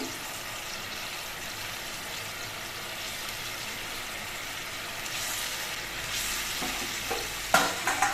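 Fish pieces going into a simmering fennel curry, a soft steady bubbling and sizzle that swells toward the end with a few sharp clinks and splashes, no talking.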